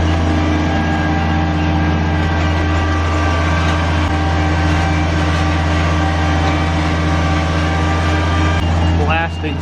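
A mine train hauling riders uphill to the start of a miniature golf course gives a steady, loud mechanical drone with a constant low hum close by, and a brief rattle near the end.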